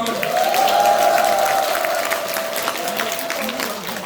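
A crowd claps steadily for several seconds, a dense patter of applause over a faint sustained tone.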